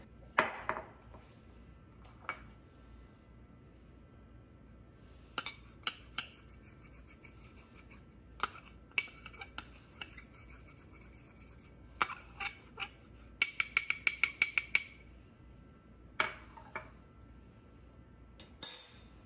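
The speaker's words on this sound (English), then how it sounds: "I'm going to sift together my all-purpose flour, cornstarch, baking powder, and baking soda." Flour, cornstarch, baking powder and baking soda sifted for s'mores cookies, heard as scattered metallic taps, rasps and clinks of a sifter, with clustered rattling bursts and quiet gaps between them, close and alone.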